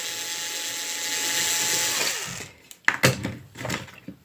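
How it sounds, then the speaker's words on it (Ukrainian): A bolt is backed out of a drywall anchor with a powered driver: a steady high whirring runs for about two seconds and stops, then a few close clicks and scraping rattles of the bolt follow. "то ви викручуєте болт,"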